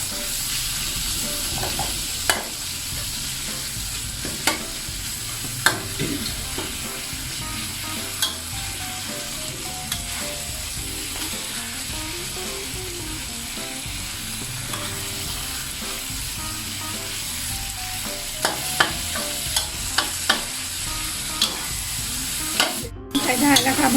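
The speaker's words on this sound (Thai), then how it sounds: "ใส่ปลาหมึกลงไปผัดเลยค่ะตอนใส่ปลาหมึกนี่เราต้องเร่งไฟนะคะเพราะปลาหมึกมันแป๊บเดียวมันก็สุกค่ะใช้ไฟแรงนะคะ" Squid stir-fried over high heat in a wok, a loud continuous sizzle and hiss with repeated sharp clanks and scrapes of a spatula tossing the pieces, sustained close up for the whole stretch without talk.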